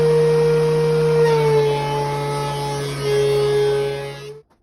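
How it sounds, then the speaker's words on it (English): Cherry hardwood lumber running through a wood planer in a workshop, a steady loud motor whine with a dropping pitch as the board feeds, ending abruptly after about four seconds. "Now a couple passes through the planer."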